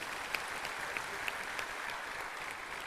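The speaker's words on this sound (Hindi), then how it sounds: "एक बार इन दोनों बच्चों के लिए ताली बजा दीजिए जोरदार" Crowd at a Patanjali yoga seva camp in Haridwar applauds steadily for two children performing yoga, a dense wash of clapping with a few sharper individual claps standing out, no voices over it.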